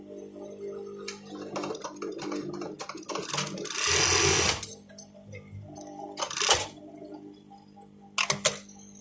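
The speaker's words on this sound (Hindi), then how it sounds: "इसको अपने सेंटर से पकड़ना है इस तरह से और इसके ऊपर इस तरह से स्टिच कर देना है" A sewing machine stitches a tassel onto a dupatta in short whirring runs, with a louder burst in the middle and scattered mechanical ticks and clicks between, close and without talk.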